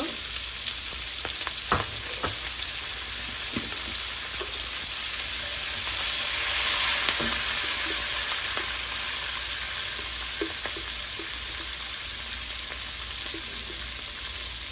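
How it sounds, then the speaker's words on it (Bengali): Whole garlic cloves frying in hot oil with onion, a continuous sizzle under scattered clicks and scrapes of a stirring utensil, moderately loud and close throughout, with no voices. "আর কটা গোটা রসুন দিব।"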